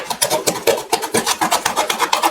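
Blade sawing through a cardboard box to cut a small divot while making a robot costume, a steady run of quick rasping back-and-forth strokes, close and fairly loud, with no talking.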